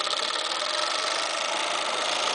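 A Kansai Special coverstitch machine runs fast on fine fabric, giving a steady, continuous mechanical whir with no breaks, close and fairly loud.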